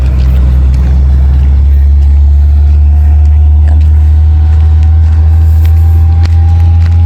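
Heavy engine rumble of large trucks passing close by on a road, a constant deep drone with a rising tonal whine, no voices.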